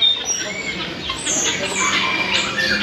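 A myna bird (burung beo) at a busy bird market in Solo, Central Java, gives shrill squawks and whistles amid a crowded, noisy background with faint voices.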